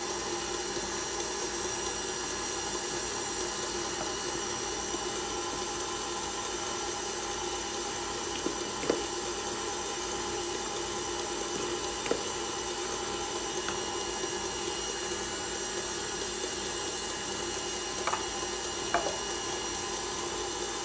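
Electric stand mixer at low speed beating flour into marble sponge cake batter, giving a steady mechanical whir with a high whine, constant and moderately close, with a few faint clicks and taps against the bowl.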